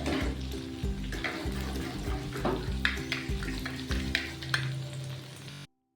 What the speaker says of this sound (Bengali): ভাজা হয়ে এসছে ঢ্যাঁড়সটা নরমও হয়ে গেছে